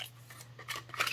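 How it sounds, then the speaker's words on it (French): Scissors snip a small oval out of green paper for flower crafting, a few crisp close cuts in quick succession with no talk. "on va venir dans un papier vert découper un petit ovale."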